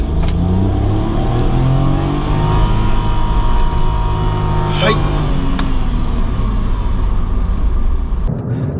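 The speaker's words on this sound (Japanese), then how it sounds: "これ一回信号のストップ&ゴーで制限速度まで何秒で加速できるかやってみたいと思います" A Daihatsu Atrai kei van pulls away from a stop at full throttle, its engine loud and close as it revs up through the gears with a steady rising drone.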